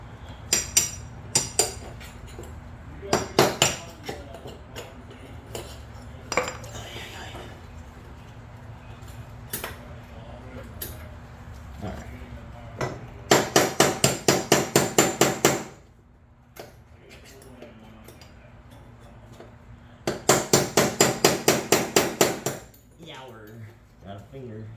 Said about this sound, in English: Punch, hammer.